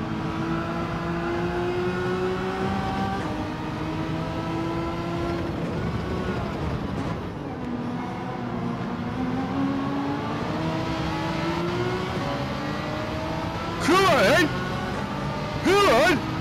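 Renault and Ferrari race cars in Gran Turismo 7 roar along together, engine notes rising and falling through gear changes, with a person talking over the steady racing sound.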